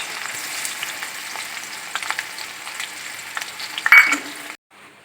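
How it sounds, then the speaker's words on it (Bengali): Onions for a biryani topping sizzle and crackle steadily in hot oil, close and moderately loud, with a few stirring clinks near the end before the sound cuts off abruptly. "বিরিয়ানির ওপরে দেওয়ার জন্য আগে পেঁয়াজ ভাজাটা ভেজে নিচ্ছি"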